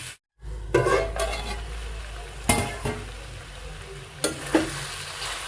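Ivy gourd curry frying in a pan: a steady sizzle broken by several sharp scraping stir strokes of a spoon against the pan, close and clear, with no talking.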